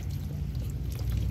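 Water is poured over a cat during a bath, a steady, close splashing pour that runs continuously through the short moment with no talking.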